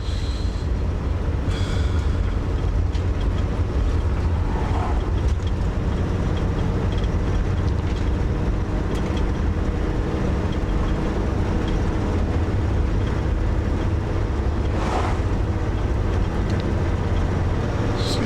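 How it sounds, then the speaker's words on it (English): Mining vehicles drive past on an outback road near a mine at Cape Crawford, giving a steady loud low roar of heavy engines and tyres with a few brief louder swells and no talk. "there's a few mining vehicles around"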